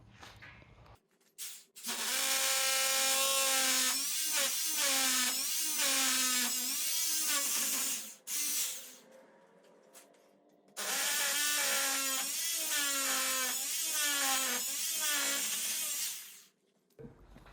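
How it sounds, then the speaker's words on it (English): A cordless DeWalt drill boring into concrete, running in two long loud whining bursts with wavering pitch as it bites, separated by a brief pause and bracketed by quiet moments. "So I'll drill this bit in, and if it doesn't go through, then I'll use the other drill."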